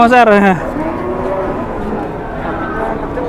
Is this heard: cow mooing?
yes